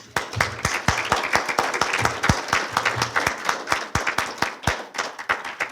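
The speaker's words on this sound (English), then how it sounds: "give yourself a round of applause" A crowd applauding steadily, many hands clapping in a dense, continuous patter with sharp individual claps standing out near the front.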